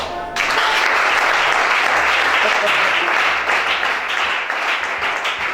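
A congregation at a church deliverance service breaks into loud, dense applause that starts abruptly and holds steady, a roomful of hands clapping close and full throughout.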